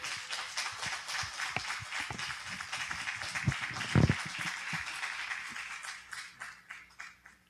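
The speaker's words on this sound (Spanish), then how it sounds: "un fuerte aplauso para nuestro hermano" A church congregation applauds a speaker after a Bible teaching, with moderate, scattered clapping at a middling distance that includes a few sharper close claps in the middle and fades toward the end.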